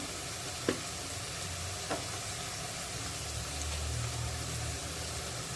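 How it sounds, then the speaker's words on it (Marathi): Homemade garam masala and chaat masala sauté on a tawa over low flame for a tawa egg dish, making a soft, even sizzle with two brief spoon taps near the start. "गॅस मंदाचेवर करायचा आहे आणि हे सर्व मसाले यामध्ये परतून घ्यायचे आहेत"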